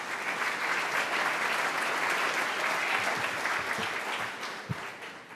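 A club meeting audience gives a big, steady round of applause that stays even for several seconds, with a single thump near the end as it begins to fade.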